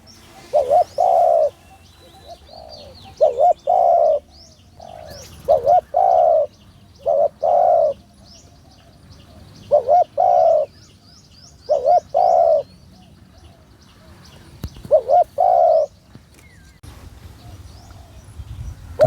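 Large doves repeat rhythmic cooing phrases throughout, in paired and clustered coos with short pauses between them. Thin, faint chirping from other birds runs in the background.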